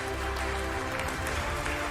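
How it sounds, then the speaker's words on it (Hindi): An audience at a Harrison Locks India awards event applauds winner Subhash Jain, a steady, full burst of clapping over background music, loud and sustained for the whole stretch. "आइए जोरदार तालियों से वेलकम करते हैं, स्वागत करते हैं हमारे विनर का, मिस्टर सुभाष जैन"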